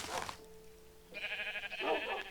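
Vanilla sheep bleating in a modded video game, with two separate wavering bleats close by, the first short and bright and the second, after a brief pause, longer and louder.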